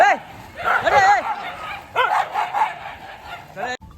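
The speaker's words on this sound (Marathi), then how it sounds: "यांची कुत्र्यांची भांडण" Dogs fighting, with several loud, close, overlapping barks and yelps in rapid bursts, mixed with people talking during a new Tata Nexon car delivery.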